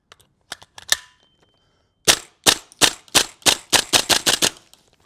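A gas airsoft rifle fires near and loud. A short stuttering burst comes first, then after a pause a rapid full-auto string of crisp, evenly spaced shots, about a dozen in a row.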